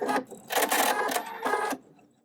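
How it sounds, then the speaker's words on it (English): Embroidery machine stitching applique placement lines on fabric for a pet kerchief, heard as a short run of close mechanical stitching in bursts over about two seconds, fading out at the end. "Next, we're going to stitch the placement lines for the applique piece at the top and bottom."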